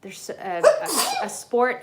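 A single sharp sneeze bursts out partway through, close and loud, set among a person's ongoing speech before and after it.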